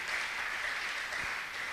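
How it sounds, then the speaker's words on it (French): Church congregation clapping together during a sermon, a steady wash of applause heard at moderate distance, unbroken for the whole moment. "Acclamons la parole de Dieu"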